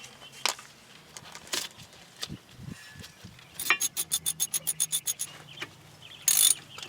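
A ratchet wrench tightens bolts on the front brakes of a 1998 Chevy Lumina, a quick run of close, crisp clicks following a few scattered metallic taps and clunks, with no talk.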